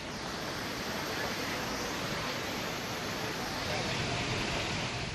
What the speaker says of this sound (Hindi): बालगंगा नदी में पानी पुल के ठीक नीचे से बह रहा है।